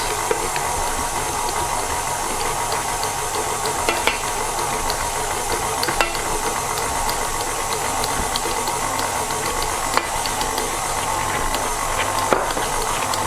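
Cake batter for a carrot, pineapple and almond cake being mixed steadily while flour goes in bit by bit, a continuous close whirring and scraping stir with no pauses and no talk.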